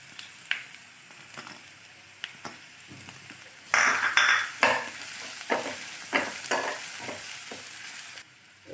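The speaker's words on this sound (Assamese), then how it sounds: "এইখিনি মই ভালকৈ ৰঙাকৈ ভাজি ল'লোঁ" Garlic, ginger and onions fry in a pan until browned, with quiet sizzling, then louder bursts of spattering oil and repeated stirring scrapes and utensil knocks, close up and without speech.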